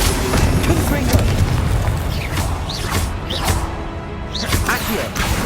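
A Confringo fire spell explodes in Hogwarts Legacy on PS5, its booming blasts and crackling bursts layered over a dense, continuous wash of game effects, with a voice briefly audible in the mix.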